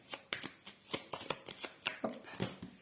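Tarot cards drawn and laid out on a surface, giving a quick irregular series of crisp flicks, slaps and shuffling snaps, close and fairly quiet, with no talk.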